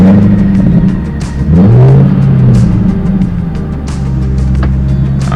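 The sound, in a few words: car engine starting and revving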